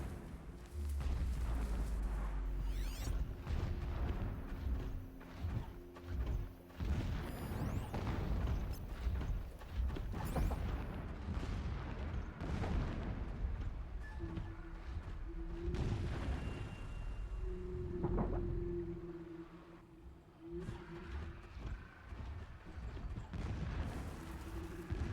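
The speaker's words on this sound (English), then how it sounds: "Explosions in the distance." Distant explosions and booming blasts in the video game Horizon Zero Dawn, rumbling repeatedly over a steady game backdrop of tones and effects, moderately loud and spread across the scene.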